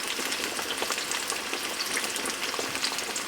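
Homemade bread frying in hot oil in a pan, a steady dense sizzle with constant crackle and spatter, close and even throughout with no talking.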